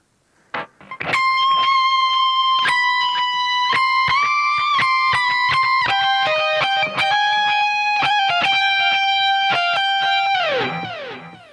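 Distorted electric guitar plays an outro solo melody, with sustained bent lead notes over rhythmic strums for about ten seconds before sliding down to a stop.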